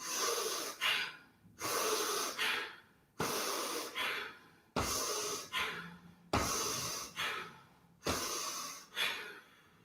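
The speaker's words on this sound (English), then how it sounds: "this time we're going to do 6 Bastrikas to the chest. So we're going to inhale and exhale, lifting the shoulders." Bhastrika yoga breathing during a morning wake-up stretch routine: six forceful, rhythmic cycles of sharp nasal inhales and exhales, loud and close, each a hissing rush of air with brief pauses between.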